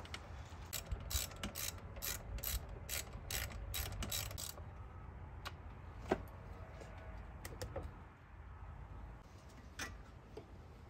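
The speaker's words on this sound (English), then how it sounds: "now I'm just threading in these bolts that go to the thermostat thing" Ratchet clicking rapidly while threading bolts into the coolant hose connector on a 1986 Toyota Corolla 4AC engine during head gasket repair, a fast regular burst of close metallic ticks followed by sparser, scattered clicks and handling noise.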